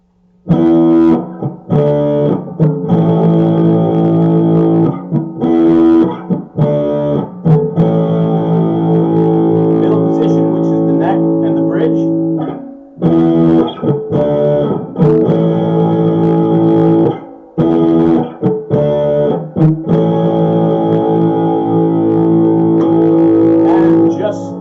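A Donner DTC-100 electric guitar plays distorted chords in short bursts separated by brief pauses, loud and close, with a gritty, saturated tone, switching between neck and bridge pickups.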